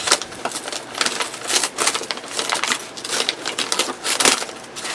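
Scissors snip while a plant is repotted, giving a run of crisp, crunchy cutting strokes in an irregular rhythm, close and fairly loud, with no voices.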